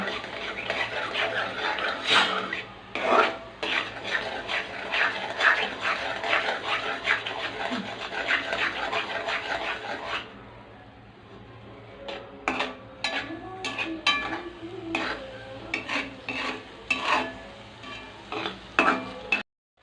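Five beaten eggs for egg bhurji are smashed and stirred in a pan with a utensil, making rapid repeated scraping and clinking strokes over a steady sizzle. A quiet pause comes midway before the sharp strokes resume.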